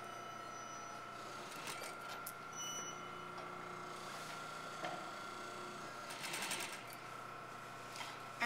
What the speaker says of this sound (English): So I'm going to take a few stitches and I'm going to reverse.